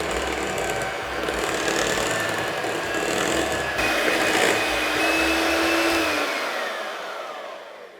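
Electric hand mixer whirring steadily through New York baked cheesecake batter as eggs go in one at a time, a continuous close motor drone with shifting pitch that winds down near the end.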